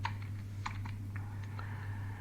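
Light typing on a computer keyboard while drafting in AutoCAD: several quick, soft key taps in a short burst over a steady electrical hum, no talking.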